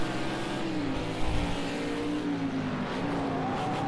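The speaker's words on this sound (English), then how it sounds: "Hard on the brakes, can hear the little lock up there by Ross." Race car in the Project Cars 2 video game braking hard, with a brief tyre lock-up amid a steady, loud engine drone that dips and rises under downshifts, plus a short squeal burst about a second in.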